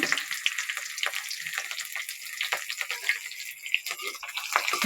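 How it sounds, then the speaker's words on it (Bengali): Chopped onions and chillies fry in hot oil with a steady crackling sizzle, scattered pops and spits running throughout at moderate level, close by with no voices. "আমি তেলের পরে কাটা পেঁয়াজ মরিচগুলো ছেড়ে দিলাম"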